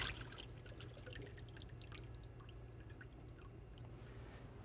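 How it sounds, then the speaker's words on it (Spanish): Soaking water draining from sliced eggplant in a kitchen, a faint steady trickle with scattered light drips over a low background hum. "Así que vamos a drenar el agua para posteriormente empezar a empanizarlas."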